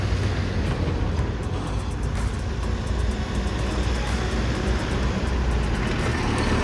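An Innova car on the Vadodara expressway, with a steady, loud rumble of passing traffic and engine noise running throughout, broadband and continuous with no clear separate arrival.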